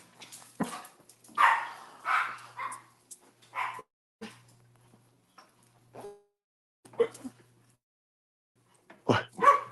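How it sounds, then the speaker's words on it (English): Dogs bark in short separate bursts, some close and loud, with quiet gaps and a few yips in between, and a person speaks briefly among them. "Dogs are barking."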